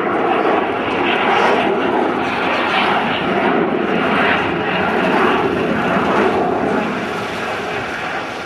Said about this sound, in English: did the Vulcan. Bombay still open, just about to close, closing now